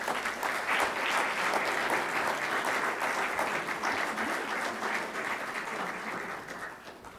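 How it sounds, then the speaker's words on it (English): An audience at a college of science honors and awards ceremony gives sustained, even applause that fades gently toward the close, with no voices on top. "Let's clap for Rhett."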